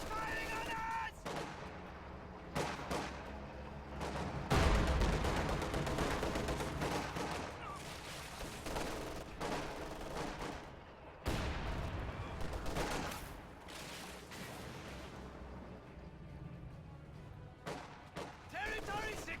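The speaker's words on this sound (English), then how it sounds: "Enemies firing on us!" Gunfire crackles and booms in a World War II strategy video game, repeated bursts and heavy impacts layered with music and in-game voice callouts, fairly loud and continuous.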